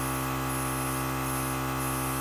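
A Temptu 2.0 compressor airbrush spraying makeup produces a continuous, loud, close hiss of air and spray with a steady mechanical drone underneath. It holds unbroken for the whole few seconds.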